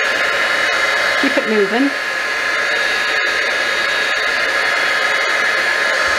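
A heat embossing tool blows a steady, loud stream of hot air over stamped paper, a constant roar like a hair dryer that fills the whole stretch. A short spoken phrase breaks through briefly near the start.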